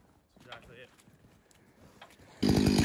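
Muffled voices and light knocks outdoors in snow, then a chainsaw winch engine roars to life loudly near the end.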